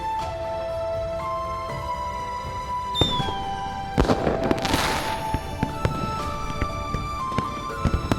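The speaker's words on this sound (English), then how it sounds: "There will be fireworks over the river tonight." Fireworks over a river in the video game Love and Deepspace pop and crackle in a string of sharp bursts, one bigger boom followed by scattered bangs, over a sustained synthetic musical tone.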